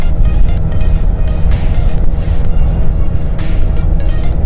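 An XTZ125 motorcycle engine accelerates in third gear with a loud, close, continuous drone that holds steady without pause.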